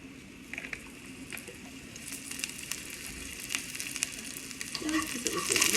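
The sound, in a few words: oil sizzling in a pan while cooking japchae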